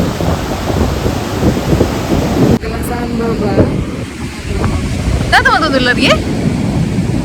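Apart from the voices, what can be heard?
strong sea waves at the beach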